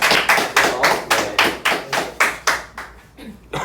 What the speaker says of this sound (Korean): 박수 한번 줘